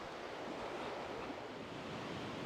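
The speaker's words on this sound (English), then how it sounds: "have a quick look at the waterfall, and it is in full flow because we had an almighty rainstorm last night" A garden waterfall in full flow after a heavy overnight rainstorm, heard as a loud, steady, unbroken rush of water close by, with no voices.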